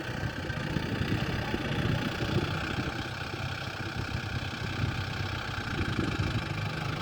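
A Yanmar YM351A tractor engine runs steadily at close range, a continuous low diesel rumble with even throb and no talk.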